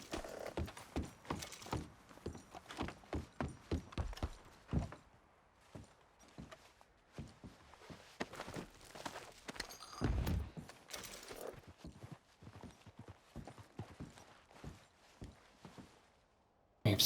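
Horse hooves clip-clop at a steady walking pace in Red Dead Redemption 2, close and moderately loud, mixed with scattered clicks and thumps of game mechanisms.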